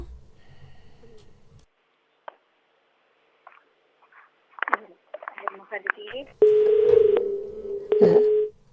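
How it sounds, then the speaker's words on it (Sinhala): A disconnected phone-in call on a broadcast line gives way to a steady, loud dial tone lasting about two seconds near the end. Scattered brief voice fragments and clicks come first. "මම හිතන්නේ දුරකථනය විසන්ධි වෙන්නට ඇති"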